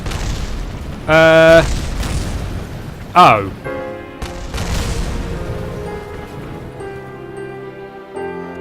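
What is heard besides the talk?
explosions in video game Kerbal Space Program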